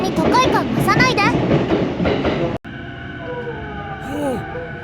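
A Chuo Line Special Rapid commuter train heading out from Tachikawa rumbles along. Voices and noise fill the first half, then after a sharp cut the car's steady hum carries rising and falling motor whines.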